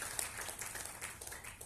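An audience at a DXN gathering gives a short burst of applause, with quick, fairly quiet scattered clapping heard from a little distance.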